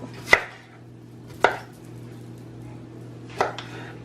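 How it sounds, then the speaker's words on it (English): A knife cuts unpeeled squash for homemade baby food, producing three distinct, well-spaced chops against a cutting board over a faint, low background hum. "This you don't really have to peel. You can just cut it like that."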